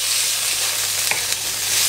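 Broccoli stir-fries in a pan with oyster sauce, giving a steady, loud, dense sizzle and crackle throughout with faint stirring scrapes and no talking.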